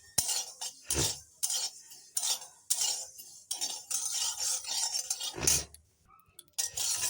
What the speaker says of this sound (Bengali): সর্ষাটা হালকা হিটে ভেজে নিলাম